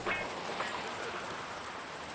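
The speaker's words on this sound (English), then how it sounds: "The rain was coming down like all the angels in heaven had decided to take a piss at the same time." Steady rain falls in Max Payne 2 as a constant, even hiss that carries on without pause from start to end, with no voices over it.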